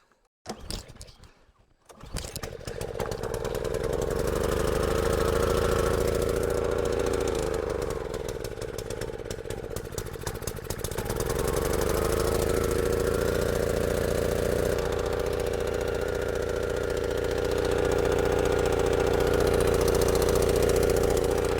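A repaired gas pressure washer engine is pull-started with an improvised handle: a few rough pulls, then the engine catches and settles into a steady, loud idle that dips briefly before holding even.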